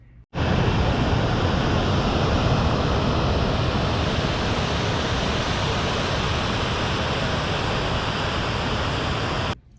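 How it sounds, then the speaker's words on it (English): Gibbons Falls, an 84-foot waterfall in Yellowstone National Park, roars as a steady, dense wash of falling water that starts abruptly and holds loud and unbroken throughout, with no voices. "So Gibbons Falls was our first stop. It's a beautiful waterfall."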